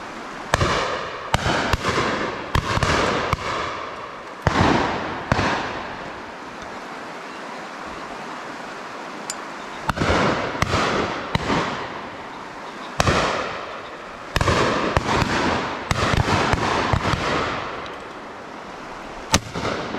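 Shotgun shots ring out at a high pheasant shoot outdoors, a dozen or so loud sharp blasts, some as quick doubles, with ragged gaps of quiet between.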